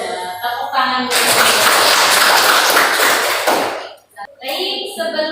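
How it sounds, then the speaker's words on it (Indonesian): Students in a classroom break into a loud burst of applause lasting a few seconds, framed by a voice speaking just before and after. "Tepuk tangan dulu."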